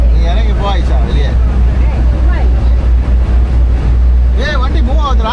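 Ferry crossing from Vypin jetty to Fort Kochi: a loud, steady low engine drone rumbles under excited, overlapping talk from passengers on board.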